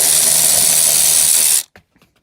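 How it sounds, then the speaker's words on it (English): Loud, steady high-pitched whir of a power tool driving a 10mm socket on an inner fender bolt of a 10th-gen Honda Civic, running about one and a half seconds before stopping abruptly, followed by a few faint clicks. "Just take your 10mm and start taking out the bolts here."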